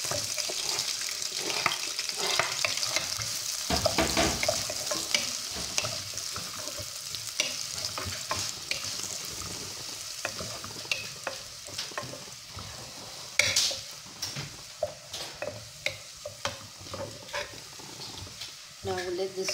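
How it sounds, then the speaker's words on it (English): Onion, ginger and garlic sautéing in a pot for corn soup, a dense continuous sizzle with stirring and scraping, and sharper clinks near the end. "Now we'll let this saute for some"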